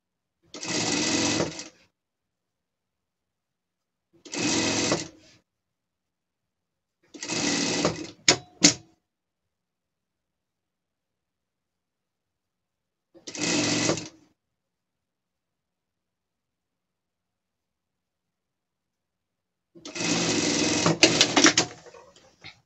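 A sewing machine stitches a French seam in five separate bursts of rapid, close mechanical whirring, each lasting one to two seconds, with silent pauses between them and a longer final run.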